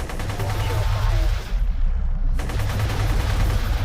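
Rapid shots from a small, weak ship gun in the space combat game Allegiance, firing steadily at a friendly miner ship. The bursts are loud and continuous, with a short pause near the middle.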